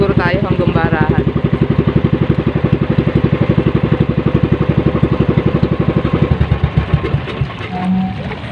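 A small fishing boat's engine running steadily at close range, a loud rapid putter that continues until it cuts out near the end, leaving quieter background noise.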